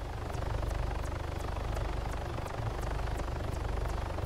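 A helicopter in the Reallife RPG video game thrums with a steady rotor chop and a low engine drone, a continuous, even pulsing that holds at the same level throughout with no talk.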